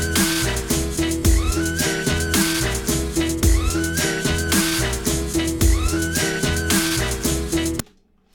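Dubstep beat layered with a sample playing back in Ableton Live, a loud looping groove with heavy bass, punchy drums and a repeating whistle-like squeal, cutting off abruptly near the end.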